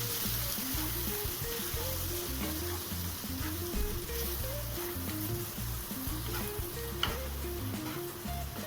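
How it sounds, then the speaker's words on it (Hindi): Masala with chopped tomatoes and black pepper powder frying and being stirred in a pan, a steady close sizzle and hiss running throughout with a low rhythmic thumping in the background. "तो चलिए मसाले को थोड़ी देर भून लेते हैं।"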